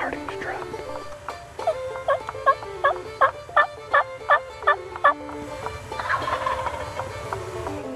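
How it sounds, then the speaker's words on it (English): A wild turkey gobbler answers calls with a string of about nine loud, rapid gobbles in quick succession, fairly close and clear above a soft outdoor background, with faint murmuring before and after. "Now, after that turkey answered, David and Catfish were able to locate that"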